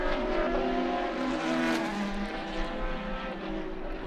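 Race cars scream past on a circuit during an ICCR 2024 round, engines howling loud and close as they go by, with the pitch sweeping and fading into a continuing roar.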